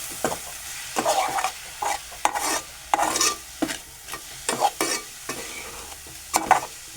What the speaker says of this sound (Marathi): मी मसाला टाकलं ते मी आता परतून घेतो